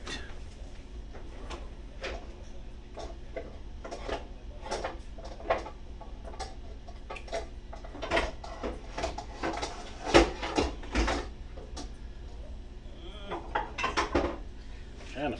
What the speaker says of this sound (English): Trying to find me something I can cook these peas and carrots in